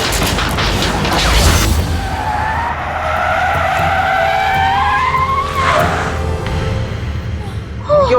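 A car skids loudly with screeching tires, then sputters and breaks down in a dramatized haunted-house horror scene. Warbling, whining tones and a fading engine follow, and voices are faintly audible beneath.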